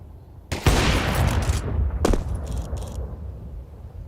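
A fast burst of Counter-Strike gunfire rings out in a pro match: a dense rattle of shots that tails off into a few scattered later pops.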